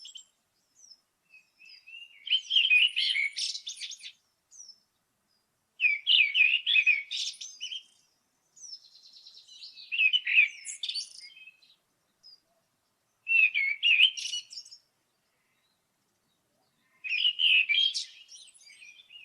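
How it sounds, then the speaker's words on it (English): A blackbird sings in clear, bright phrases of warbling notes, five separate bursts spaced by short pauses, close and unaccompanied, in an original unslowed recording. "This is what the bird will say. This is a blackbird."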